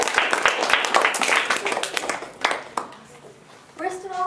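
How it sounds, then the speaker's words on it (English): Audience applause for a speaker, with brisk clapping at full strength that tapers off over a few seconds before a voice starts talking. "Can I please have a round of applause for my awesome friend and childhood friend,"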